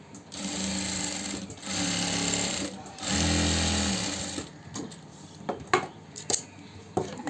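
A sewing machine stitches cloth piping in three loud, steady runs separated by short pauses, followed by a few sharp clicks and handling knocks at the end.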